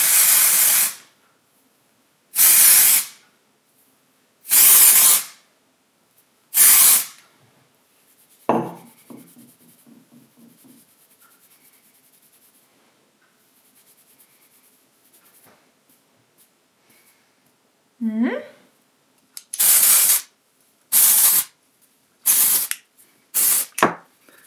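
Dry shampoo sprayed from an aerosol bottle into hair: several loud, close hissing bursts about a second long each, several in a row, then a quieter stretch of rustling and handling, then more bursts in quick succession.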